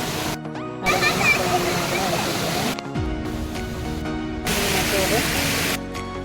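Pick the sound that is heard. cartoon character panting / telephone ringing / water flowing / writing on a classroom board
water flowing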